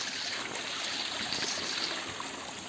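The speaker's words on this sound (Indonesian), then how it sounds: "Itu air terjun pertama" Water of the Kuwung waterfall rushes and flows steadily, a constant broadband hiss with no breaks, heard from nearby.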